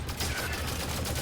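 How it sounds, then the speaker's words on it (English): A light rifle firing in the video game Halo 5, a quick string of rapid, evenly spaced shots over about a second, loud and close. "That's a light rifle."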